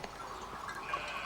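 Sheep bleat faintly as the flock is turned into a pen, a thin wavering cry over a soft, steady outdoor background.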